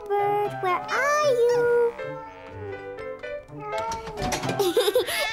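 A cartoon cat meows in an animated children's show about a boy and his family, with music and voices around it; the call is mixed into a busy, loud stretch of score and speech.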